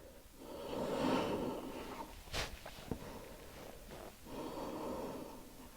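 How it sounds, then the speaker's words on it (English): Deep, steady breathing during a yoga session, slow audible inhales and exhales close by, with a few soft rustles and no talking. "Deep, steady breaths."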